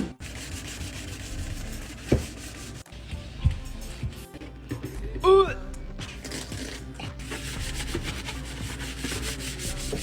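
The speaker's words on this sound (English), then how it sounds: "Time to scrub." Scrubbing inside a refrigerator during cleaning, a steady rubbing, sanding-like friction close by with a few sharper knocks and a squeaky swipe along the way.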